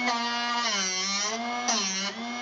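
A Drill Doctor 750X sharpener grinds a drill bit with a steady, loud, high-pitched motor whine that wavers slightly in pitch as the bit is turned against the wheel.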